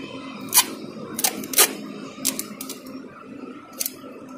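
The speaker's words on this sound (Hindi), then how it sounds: "इधर सेम टू सेम इधर लगाएंगे हम अपनी इसी टेप को ऐसे ही सेम प्रोसीजर में" Tape pulled and pressed along the sides of a handmade paper kite gives several sharp crackling rips and taps spread irregularly over a few seconds, close and fairly quiet, with no talking.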